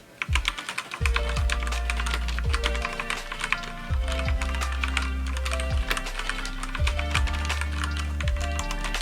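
Steady typing on a Redragon K552 tenkeyless mechanical keyboard, close and clear, with a rapid run of clacky keystrokes and no talk.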